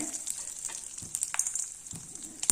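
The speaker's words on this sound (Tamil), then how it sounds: "காஞ்ச மிளகா கடுகு கொஞ்சம் சிம்மில் வச்சுக்கோங்க" Dried red chillies and mustard seeds temper in hot oil on low heat for masala rice, giving a soft crackling sizzle with scattered pops and light stirring, close and alone without voices.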